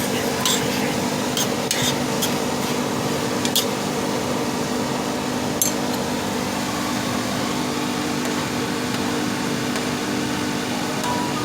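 Rice fries in a pan with a constant loud sizzle, while sharp scraping clicks of stirring come through now and then; no talking.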